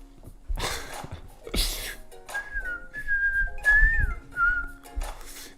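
A person whistles a wavering melody over music playing quietly in the background, the tune rising and sliding across a few seconds between brief rustling bumps.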